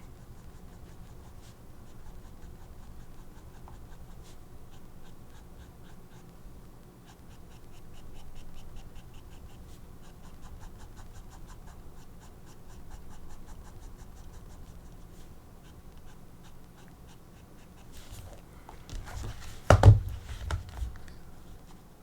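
A brush pen draws ink lines on paper with soft, faint scratching strokes in a quiet room, ending with a louder knock or thump near the end.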